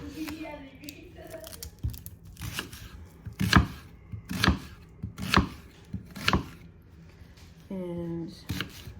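Onions are roughly sliced with a knife in a string of firm, close chops at an irregular pace, with a faint voice-like tone near the end.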